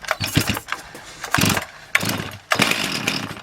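Pull-start attempts on a STIHL MS 361 chainsaw, several sharp cord pulls with brief engine catches and sputters, loud and close, before it fails to settle into a steady run.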